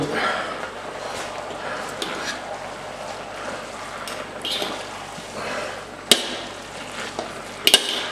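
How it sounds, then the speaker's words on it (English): Lemongrass pork and noodles stir-fry in a wok with a continuous close sizzle and hiss, broken by occasional sharp scrapes and clicks of a utensil against the metal, while a voice talks faintly in places. "Just going to give this a little bit of a stir, as you'll see, in with the noodles."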